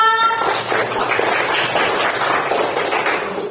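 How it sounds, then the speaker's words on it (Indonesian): A classroom of students applauds for group 2, with brisk, close clapping that starts sharply after a brief tone and continues steadily before fading slightly at the end. "tepuk tangan untuk kelompok 2"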